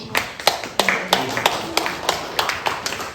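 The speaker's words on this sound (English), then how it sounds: "let's give a round of applause to all our speakers and to you as well for being here" Scattered applause from a small workshop audience thanking the speakers, a handful of separate, fairly close claps at an uneven rhythm rather than a full ovation.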